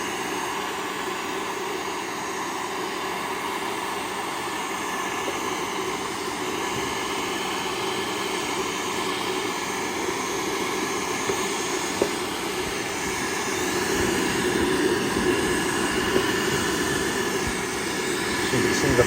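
Heat gun blowing close against a plastic motorcycle speaker pod on a Harley-Davidson Road Glide, a steady loud whooshing roar of air that holds constant throughout, with faint clicks now and then.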